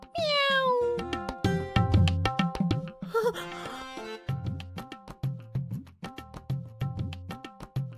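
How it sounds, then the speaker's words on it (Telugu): A cat meows at the start with a few falling, whining cries, then music with a steady beat carries on over the rest. "దొంగ పిల్లి తలుపులన్నీ వేసినా ఎలా దూరిందో ఏమో."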